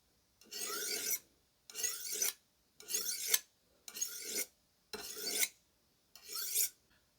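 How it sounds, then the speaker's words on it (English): Steel knife edge stroked along a honing rod, six separate rasping swipes at an even rhythm, each about half a second long with short silences between, close and clear. "So by running the knife edge on the honing rod, it'll bring it"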